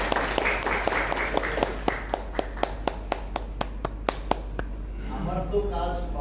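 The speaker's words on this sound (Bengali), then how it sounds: "ভেরি গুড, হাততালি।" An audience at a leadership communication training claps in a steady, evenly spaced rhythm of sharp hand claps, and voices murmur as the clapping fades near the end.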